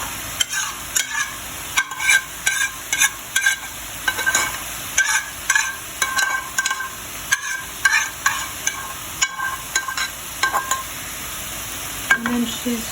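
Chopped onions sautéing in a pan for Ukrainian sauerkraut varenyky filling, with a steady run of scraping, clattering stirring strokes over a soft sizzle, close and fairly loud, without talk.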